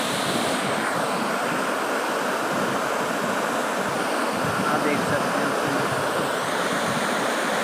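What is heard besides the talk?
flood water flowing out of the Ghaggar river siphon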